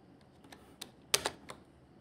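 Keystrokes on a computer keyboard while code is entered, a few scattered soft clicks then a brief quick burst of taps, fairly quiet and isolated with no talk.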